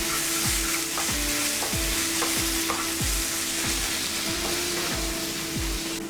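Pav bhaji mixture is stirred in a pan over continuous loud frying hiss, with a regular rhythm of about ten spoon scrapes and knocks, close up.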